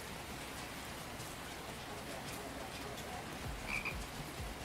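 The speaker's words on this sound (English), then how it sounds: "Frog." Frog croaking repeatedly among steady rain pattering on a surface, a moderately close, continuous wet outdoor ambience with brief croaks standing out near the end.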